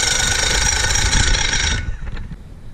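A 2001 Mercury 50 horsepower outboard motor runs with a steady, buzzing roar, then cuts out abruptly, leaving faint clunks and rattles behind.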